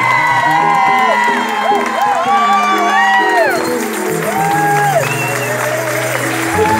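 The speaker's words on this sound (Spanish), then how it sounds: "un aplauso muy fuerte para toda mi banda que me acompaña" A concert crowd claps and cheers for the band, loud continuous applause mixed with whoops and high shouts, with voices calling out over it throughout.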